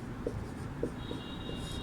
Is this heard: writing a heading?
yes